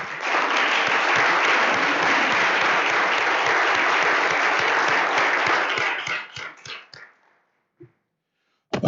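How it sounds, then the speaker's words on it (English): Parents and guardians in the stands applauding, a full, loud round of clapping that holds steady for about six seconds, then thins to a few last claps and silence. "I'd definitely like to just give a warm round of applause for all our parents and guardians that are in the stands tonight"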